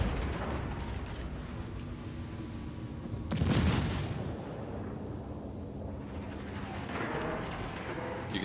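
Naval gunfire from the Edinburgh cruiser in World of Warships, heard as a single loud, booming broadside burst against a steady background rumble of battle.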